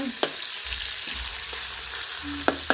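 Pork marinated with garlic, sauce and seasoning fries in oil, a soft steady sizzle with a few sharp clinks of a utensil near the end, no talking.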